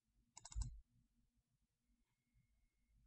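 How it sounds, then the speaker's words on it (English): A computer mouse gives a quick double click, two sharp close clicks in rapid succession, followed by near silence with faint background hum. "So I'm going to go ahead and double click on it."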